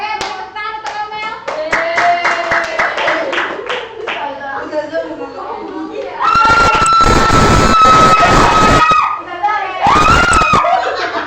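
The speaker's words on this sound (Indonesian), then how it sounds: "beri tepuk tangan untuk Amel." Classroom applause for a student: scattered, uneven hand claps from a small group start the stretch, then a louder burst of clapping mixes with laughter and excited shrieks before fading out.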